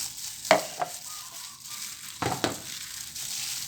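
Bare hands mix a Thai rice-based Isan sausage filling in a bowl, giving a few wet squelching and stirring bursts separated by quiet pauses, close and fairly soft.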